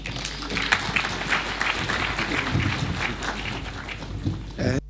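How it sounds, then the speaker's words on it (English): Audience applause for a speaker at a Kenyan community gathering: a steady, dense wash of many hands clapping at close range, sustained throughout with little variation and no talk over it. "A round of applause for Mr. Vuong"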